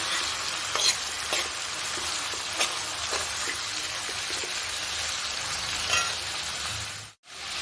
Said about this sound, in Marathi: म्हणून मग चण्याची डाळ टाकायची. ती परतून घ्यायची अशी छान.